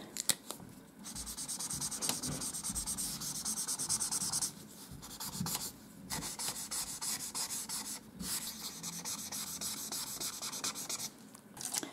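An alcohol marker scratches and rubs across paper while filling in gaps with a light shade in a desert drawing, producing bursts of dry scribbling strokes separated by short pauses.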